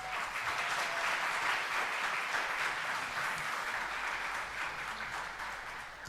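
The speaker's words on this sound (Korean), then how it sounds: "목사님 나오실 때 우리 박수로 한번 환영하겠습니다." A church congregation at a Korean church in Daegu claps to welcome a missionary to the pulpit, a dense, even patter of many hands sustained at moderate volume, slightly distant, with no voices over it.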